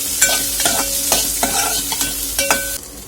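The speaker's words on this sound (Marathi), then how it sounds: "कांदा मी इथे उभा चिरून घेतला आहे आणि आपण या तेलामध्ये फ्राय करून घ्यायचं आहे कांद्याला" Vertically sliced onions frying in hot oil in a pan, a steady close sizzle broken by repeated rhythmic scrapes of a stirring spoon.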